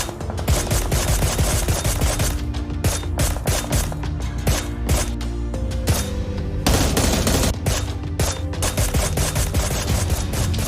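Gunfire in the PUBG Mobile video game: dense automatic bursts and overlapping shots crackle loudly and almost continuously over a low background, with short gaps between volleys.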